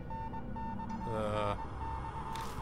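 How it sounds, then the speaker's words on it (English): Steady, faint electronic beeping of a Morse code signal in the horror game Death Mark, a regular tone pulsing through a sewer level over low background ambience, with no talk. "Oh, that's Morse code."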